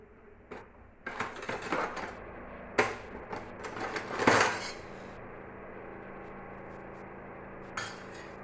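Metal pots and vessels clatter and clank in several bursts, some louder knocks among lighter rattles, with quiet pauses between.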